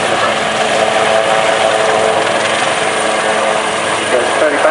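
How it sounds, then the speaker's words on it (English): A military helicopter at a seaside airshow slows to a hover, its loud, steady rotor and engine roar filling the air without a break. A commentator speaks over the public address system underneath. "the aircraft are just coming into a slow stop"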